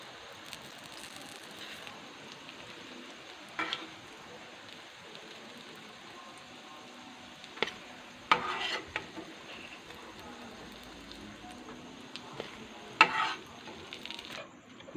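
Chicken shami kababs sizzle softly in a pan as they are lifted out, a steady low frying hiss with a few sharp clinks and scrapes of the utensil, no voices.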